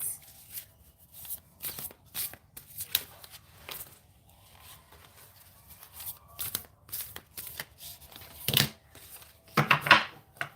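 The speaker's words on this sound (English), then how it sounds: "This deck is hard to shuffle, but we're going to go with these." A stiff deck of tarot cards being shuffled by hand in a series of riffling bursts and pauses, close and fairly quiet, with brief louder flurries toward the end and no speech.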